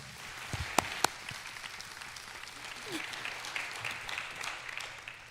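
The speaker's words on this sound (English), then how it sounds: "Give her just a little round of applause" An audience gives a speaker a modest round of applause, a thin patter of clapping with a couple of sharp, close claps early on and low murmuring voices beneath.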